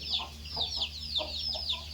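Young chicks on a farm cheep in quick, high, repeated peeps at a steady rhythm, fairly close, over a low constant hum.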